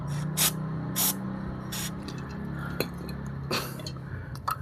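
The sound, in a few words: spraying onto glued motorcycle plastic part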